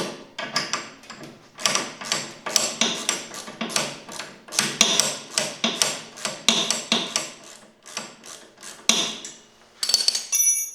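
Wrench and metal tools working a bolt off a linear actuator on a four-wheeler snowplow, giving a long series of sharp clanks and ratcheting knocks close by.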